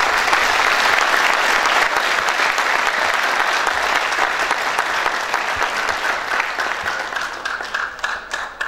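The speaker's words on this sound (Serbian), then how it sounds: "zamolila bih aplauz za Dobrivoja Pantelića" An audience at a film premiere in Krupanj gives Dobrivoje Pantelić, the festival's founder, a dense, sustained round of clapping that thins out and fades toward the end.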